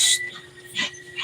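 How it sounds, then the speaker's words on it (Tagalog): Tied-up dog letting out a few short, high yips and whimpers, brief and fairly faint, coming in scattered bursts with quiet gaps between them. "ang ingay tuloy yung aso nakatali"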